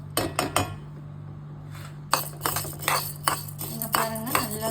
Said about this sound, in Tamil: நல்ல துவரம்பருப்பை மிதமான சூடில் வச்சுட்டு நம்ம இப்படி ஃப்ரை பண்ணணும்